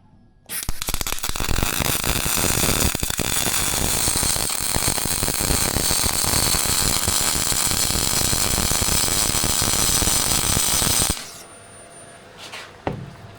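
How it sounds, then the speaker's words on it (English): Arc welder laying a pad weld to build up pitted steel on a boat hull during restoration, a steady loud crackling sizzle for about ten seconds, then stopping abruptly. "I'm just gonna pad weld this up"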